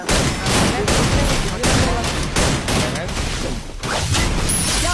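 Rapid gunfire fills a shooting video game, with sniper fire in play: dense bursts and sharp cracks crowd together in a loud, continuous barrage with brief gaps between volleys.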